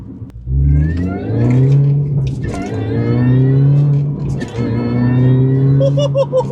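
A supercharged R53 Mini Cooper S, a front-wheel-drive hot hatch, accelerates hard on a wet road, its engine note climbing steadily in pitch through the gears, loud and close throughout with no voices.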